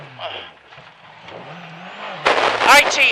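A rally car on a special stage of the Manx National Rally, engine droning then flaring into a loud rev as it makes a handbrake turn through a hairpin, with a co-driver calling pace notes over the noise.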